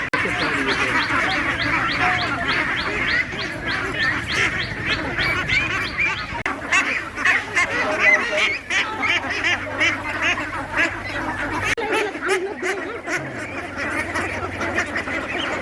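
A flock of farmed ducks quacks continuously, rapid overlapping calls at close range that keep up a steady, noisy chatter throughout.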